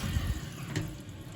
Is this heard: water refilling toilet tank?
yes